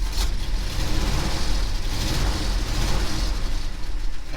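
A 1967 Ford F250 truck engine running just after starting, a loud, close, steady low rumble with an even throb and no talk.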